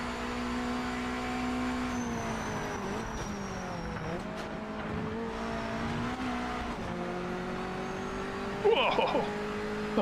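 A Mazda MX-5 in a racing video game, its engine holding a steady droning note that dips and climbs through downshifts, with a brief tire squeal near the end.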